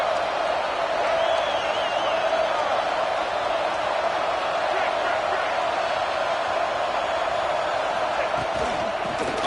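Football stadium crowd in a video game roars steadily for the defense in the red zone, a dense continuous wash of cheering and noise that stays loud and unbroken throughout.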